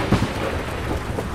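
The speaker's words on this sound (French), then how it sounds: "Éclairs et coups de tonnerre se succédaient sans discontinuer." A thunderstorm rumbles with steady heavy rain and a low, continuous roll of thunder, loud and close, with no voices.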